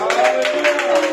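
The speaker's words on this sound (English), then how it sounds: "Give a hand of applause to the Lord" A church congregation clapping in applause, a brief burst of dense handclaps with a voice over it.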